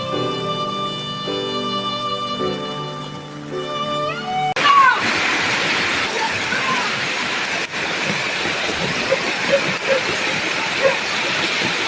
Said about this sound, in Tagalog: Umapaw na yung ilog.